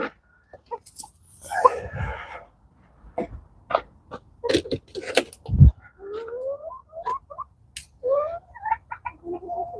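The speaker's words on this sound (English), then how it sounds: "I guess this chicken's going to be my little buddy out here this morning." A chicken clucking nearby outdoors in a morning pepper garden, a run of close, irregular clucks and short squawks, loud and clear without talking.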